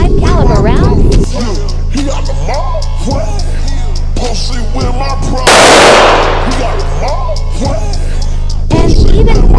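.45 caliber handgun fired at a Level 3A backpack armor insert during a range test: one sharp, loud shot cracks out midway, surrounded by a voice talking.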